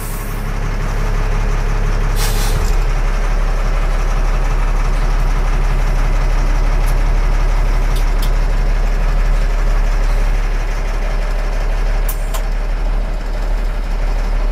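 A fire engine with an Allison military-style transmission idles with a steady heavy diesel rumble. Early on, a sharp hiss of air brakes releasing breaks through, and a few faint clicks follow.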